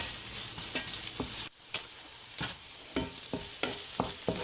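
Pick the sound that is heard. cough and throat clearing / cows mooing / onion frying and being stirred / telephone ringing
onion frying and being stirred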